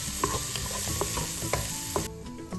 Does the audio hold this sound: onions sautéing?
yes